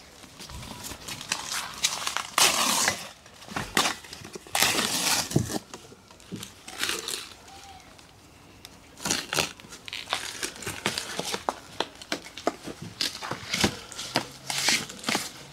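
Plastic and paper packaging crinkled, crushed and torn away from a carbon-fibre CMST Tesla hood, loud bursts of rustling and crumpling in irregular clusters with short quieter gaps.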